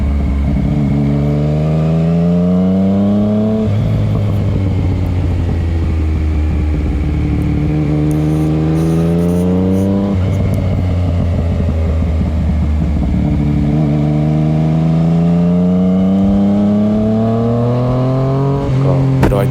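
Yamaha MT-09 motorcycles speeding down the winding Doi Suthep mountain road, loud engines repeatedly revving up through the gears and dropping back, with heavy wind rush and a voice talking faintly underneath.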